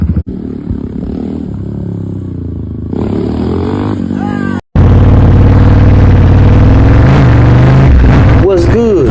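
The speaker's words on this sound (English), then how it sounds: "First time doing a wheelie ever." Motorcycle engine revving hard and loud throughout a rider's first-ever wheelie, a steady roar with rising pitch sweeps, a brief sharp cut near the middle, then full throttle resuming; a voice talks over parts of it.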